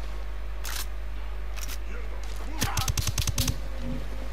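Sniper gunfire in the video game Ghost Recon Breakpoint, a single sharp report followed by a rapid burst of about eight clipped shots.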